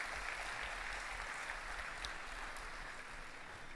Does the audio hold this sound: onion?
no